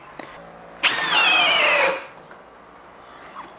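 A Makita DHP487 cordless hammer drill in gear 2 bursts into a loud, whining run for about a second before the clutch cuts out, followed by quiet handling noise.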